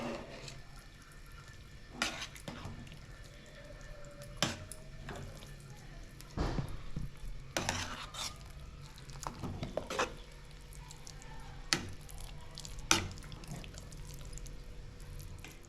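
Sweet pongal being stirred in a pot after boiled milk is added, with soft, wet sloshing and scattered clinks of a spoon against the vessel, faint and intermittent.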